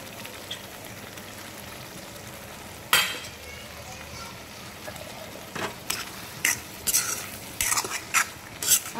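A spoon stirs brinjal masala with coriander in a pan, giving a soft sizzle and a run of scraping clinks against the metal, quiet at first and then in quick irregular bursts.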